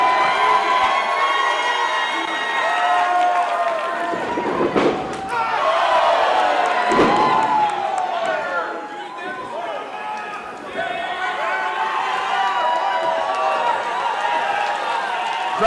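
An indoor wrestling crowd cheers for Don Julio during a match against Shane Sabre, a loud, continuous roar with shouts and a couple of sharp ring thuds, under a commentator's voice.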